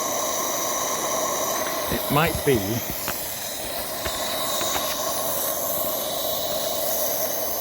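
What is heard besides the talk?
steam hissing from Beck Helene live steam locomotive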